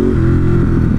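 A 2018 Ducati Monster 1200 S motorcycle in sport mode accelerates hard, its engine loud and close with a rising, throaty roar over the whole brief burst.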